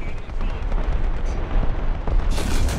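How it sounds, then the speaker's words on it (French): A heavy explosion from bombardment rolls through a War Thunder tank battle, a deep booming rumble lasting the whole moment with a bright crackling burst near the end. "On a vacillé là, suite à un bombardement"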